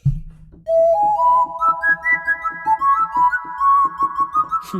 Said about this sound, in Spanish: Ese silbido suena genial.